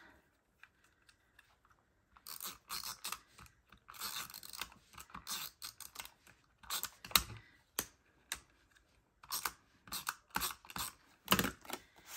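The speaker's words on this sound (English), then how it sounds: "So I'm just gonna use my tape runner." A tape runner applies tape to scrapbook paper in quick bursts of soft clicking and scratchy rolling, close up and quiet, with short pauses between strokes.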